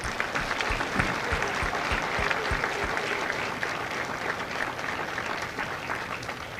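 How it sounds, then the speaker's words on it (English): Sustained applause from a large crowd at a Marine Corps recruit graduation in San Diego, steady and full throughout, with no voices standing out. "join me in a round of applause for the families of Kilo Company"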